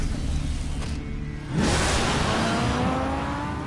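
A red car in a Telltale Batman video game starts up and drives off, engine surging loudly after a quieter lead-in and then holding a steady rising drone to the end.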